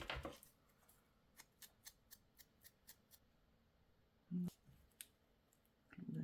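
Scissors snipping paper for a layered junk journal page: a run of about eight short, evenly spaced crisp cuts, fairly close and clean, with a few soft handling rustles near the end and no talk.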